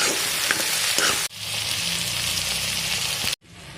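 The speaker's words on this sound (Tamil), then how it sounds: "வெள்ளைப்பூடு பச்சை மிளகாய் தக்காளி பழத்தை சேர்த்து நல்லா எண்ணெயில் வதக்கிக்கிடலாம்" Onion, garlic, green chili and tomato sauté in hot oil for a dried-fish curry, giving a loud, continuous close sizzle that briefly drops out twice as the pan is handled; no one speaks.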